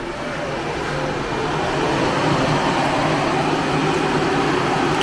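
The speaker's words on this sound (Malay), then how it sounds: "So kipas tu dia akan pusing lah." An extra external condenser fan fitted to a Perodua Alza spins steadily, a constant loud whooshing whir that builds slightly after starting and holds without a break.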